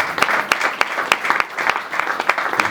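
A church congregation claps in steady rhythmic unison, loud and near, the beats evenly spaced like a cheering crowd keeping time.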